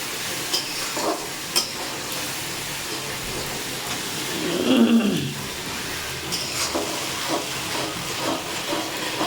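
Ginger, garlic, cumin and green chilli paste frying in a pan, with a steady soft sizzle and hiss, a few stirring scrapes and a louder burst of frying near the middle.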